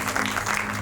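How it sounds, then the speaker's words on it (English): Applause from an audience at a community event on ending gun violence, with a short burst of dense, steady clapping. "Everybody clap it up for yourself."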